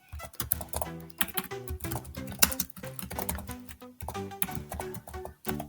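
Fast keystrokes on a computer keyboard while entering text in an Excel spreadsheet, an irregular patter of clicks heard over steady background music.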